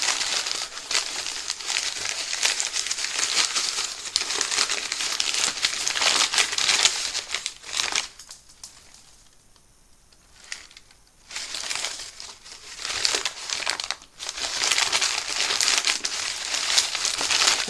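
Padding material from a mailed art package crinkles and crunches as it is handled, a close, dense crackling that runs almost continuously, pauses briefly near the middle, then resumes.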